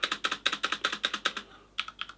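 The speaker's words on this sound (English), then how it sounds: "The spacebar is a little louder though, if you listen to what the spacebar sounds like" Rapid typing on an Adata XPG Summoner mechanical keyboard with Cherry Silver switches, a steady rhythm of crisp clacks, a short pause, then a few louder spacebar keystrokes, close and clear.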